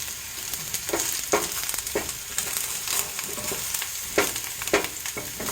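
Peppers, onions and carrots sauté in a pan with a steady, close sizzle, broken by periodic stirring scrapes about once a second.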